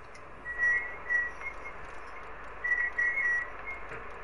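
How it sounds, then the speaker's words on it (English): Faint, high, steady whistling tones in two separate bursts during Fortnite gameplay, thin and quiet over a low background hiss. "what's that whistling noise"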